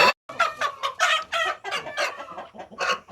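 Semi-adult Brahma chickens cluck in a steady run of short, busy calls close by, with a brief gap near the start and no talk.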